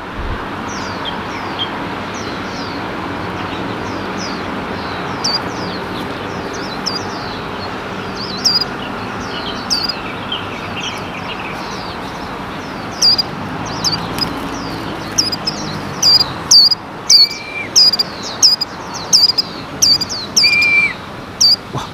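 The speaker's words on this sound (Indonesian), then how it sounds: "Wah, burung pleci liarnya pada datang semua." Wild white-eyes (pleci birds) chirp in sharp, high bursts over a steady low outdoor rumble, growing denser and louder toward the end, with no talk.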